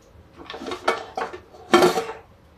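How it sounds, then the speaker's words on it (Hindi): A metal lid set onto a pot of dal cooking in a home kitchen, giving a few clattering metallic knocks and a louder clank near the end, close and alone. "तो बस अब इस दाल को हम ढक देते हैं।"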